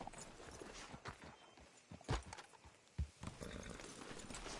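Horse hooves clip-clopping at a slow walk in the Western video game Red Dead Redemption 2, with a few sharper hoof strikes and a brief whinny, moderately faint with background ambience.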